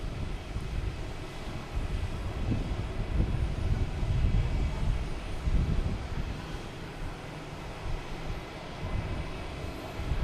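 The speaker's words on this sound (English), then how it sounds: "We have a WestJet on its downward leg coming in here." A WestJet airliner on its downwind leg approaching Boston Logan Airport gives a steady, broad jet engine rumble that swells and eases slightly, heard at a distance with no talking.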